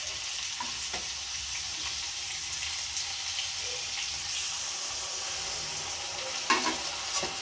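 Mustard-poppy paste with potato and pointed gourd frying in a pan, a steady soft sizzle with light stirring scrapes throughout and a brief louder clatter near the end.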